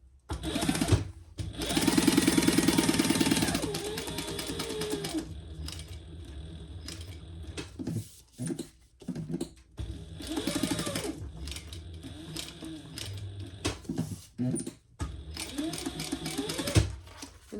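A sewing machine stitches around the outside of a fabric bag in several bursts of steady, fast mechanical whirring, broken by short pauses and handling noise, loud and close.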